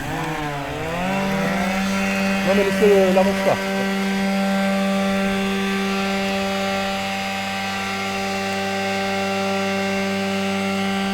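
A Lymow One Plus robot lawn mower runs at maximum turbo speed with a steady, droning motor whine full of harmonics. A person speaks briefly early on, then the hum carries on alone.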